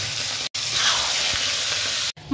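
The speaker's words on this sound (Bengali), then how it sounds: "এরপরে যে মাথাগুলো নুন হলুদ দিয়ে মেখে রেখেছিলাম এগুলো ভেজে নেব।" Fish heads rubbed with salt and turmeric crackle and hiss in hot oil, a bright steady sizzle broken by two brief silent gaps, with faint stirring underneath.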